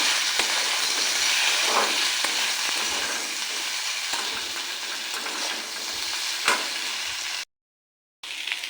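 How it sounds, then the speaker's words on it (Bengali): Okra tossed over fried potatoes in a pan, a continuous hiss of frying broken by a few spatula scrapes, close and fairly soft, cutting out briefly near the end. "এই যে আলু ভেজে নিয়েছি, তার উপরে দিয়ে দেবো ঢেঁড়স। একটুখানি নাড়বো।"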